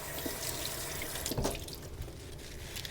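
Tap water running into a kitchen sink while asparagus is rinsed, a steady close splashing stream with slight shifts as the spears move under the flow, no talk.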